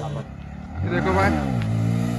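Yamaha MT15 motorcycle engine revving hard in second gear during a wheelie attempt, rising and falling pitch sweeps close by and loud, with a background voice underneath.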